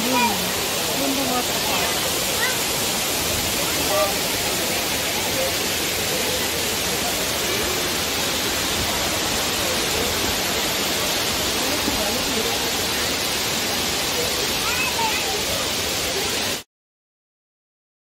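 A waterfall at Dlundung in Mojokerto sends up a steady, broadband roar that holds at an even level throughout, with no pauses or breaks in the rushing water.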